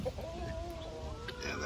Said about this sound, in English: And the chickens.